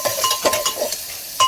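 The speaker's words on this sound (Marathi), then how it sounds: "डाळीला फोडणी देतीये." Dal tempered in hot oil over a village wood-fired clay stove gives brief sizzling bursts mixed with sharp metal utensil clinks and stirring.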